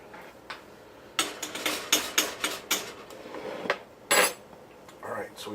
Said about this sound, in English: We're going to give this a stir because it still hasn't come up to a boil yet